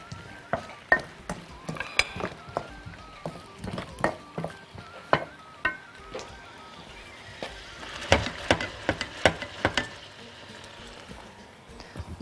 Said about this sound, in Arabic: نحط هنا بقى البطاطس واسيبها تتشوح مع حبة الملح